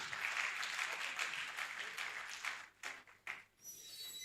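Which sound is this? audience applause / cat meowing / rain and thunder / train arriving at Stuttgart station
audience applause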